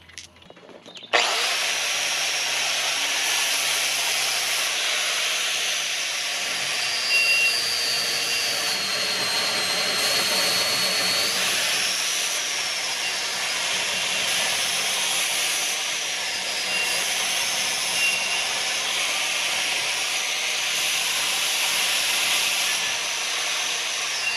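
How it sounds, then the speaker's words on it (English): An angle grinder fitted with a flat brush wheel scrubs rust from Infiniti Q50 brake parts outdoors, a loud continuous whine that starts abruptly and holds steady with slight pitch shifts throughout. "use a angle grinder with a brush wheel, a flat disc, to make them like brand new"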